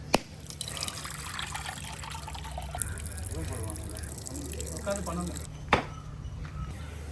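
Water running and dribbling into a vessel over soaking odiyal flour in a home kitchen, a continuous trickle with a few clunks, under a person talking.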